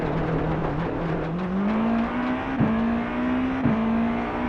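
A race car in the iRacing sim bogs in gravel, its engine droning steadily and rising slowly in pitch as it barely accelerates, with two brief bumps, loud and close.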